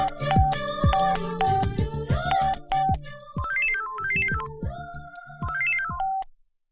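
A phone rings after a number is dialed in a Malayalam film scene: a loud electronic ringtone with a bright repeating melody that plays steadily for several seconds, then stops. Occasional background sounds sit beneath it, with no talking.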